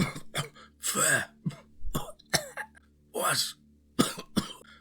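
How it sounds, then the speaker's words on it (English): A man in a tense spoken story coughs repeatedly, with several short harsh bursts and throat clearing set between bits of speech, loud and close. "He managed to cough out the words."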